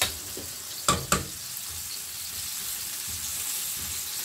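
Aubergine curry ingredients frying in oil in a pan: a soft, steady sizzle and crackle close by, with two sharp clinks near the start.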